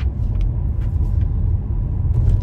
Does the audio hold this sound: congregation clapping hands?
no